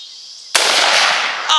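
A single loud gunshot rings out during an outdoor rabbit hunt, a sharp blast whose noise rolls on for about a second, preceded by a steady high outdoor hum and followed by a brief second crack.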